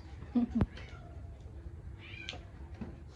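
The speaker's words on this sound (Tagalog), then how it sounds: "Bagong pusa na naman yan." A newly arrived cat meows twice in quick succession, short and fairly close, followed by faint background sounds and distant movement.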